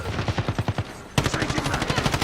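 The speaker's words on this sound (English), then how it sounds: "Taking fire on me." Rapid bursts of automatic gunfire in a multiplayer shooter video game, a steady rhythmic rattle of shots that jumps louder and denser midway, with no talking.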